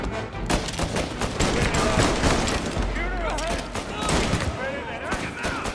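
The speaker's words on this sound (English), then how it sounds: "Shoot him before he comes up the stairs!" Dense, loud gunfire rattles continuously during a firefight in the game Mafia Definitive Edition, with rapid overlapping shots and shouting voices layered over the barrage.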